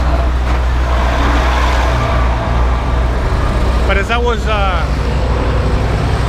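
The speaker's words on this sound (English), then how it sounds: "it's a lot of traffic today, a lot of traffic" Busy street traffic during Noche Blanca in Merida, Mexico, with a loud constant low engine rumble of passing cars and buses close by while a person talks over it.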